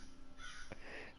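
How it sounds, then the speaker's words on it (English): A single crow caws once in a video game, a short harsh call standing out over quiet steady background game ambience, faint overall and with no talk. "Ah, damn crows."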